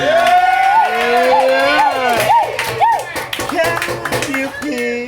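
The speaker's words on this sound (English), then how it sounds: "Clap it up for Kenny for hosting this night." An audience at a comedy roast claps for the host, with quick, rhythmic clapping heard beneath a loud voice talking over it.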